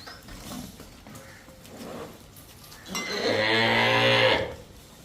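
A Jersey cow on a dairy farm lets out one long, loud moo in the second half, following a few seconds of quieter background sounds.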